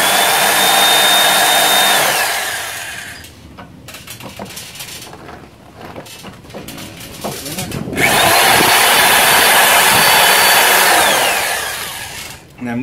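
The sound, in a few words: power drill pre-drilling holes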